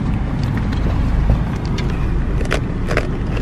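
A car drives along after a stop at a grocery store, giving a steady, close rumble of engine and road noise from inside the cabin with faint rattles.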